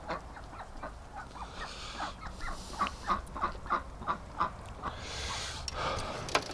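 Several geese honking nearby, a run of short, regular nasal calls in quick succession that grows louder mid-way, mixed with some squawks over faint farmyard background.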